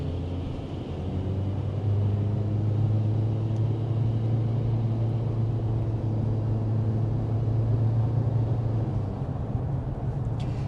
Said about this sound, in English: as I was accelerating there